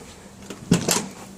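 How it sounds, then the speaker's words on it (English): A Ford F-350 flatdeck truck door undergoing body repair swings shut with one solid close-range thunk and a short rattling follow-through, loud against a quiet shop background. "Lined up the door. Closes nice now."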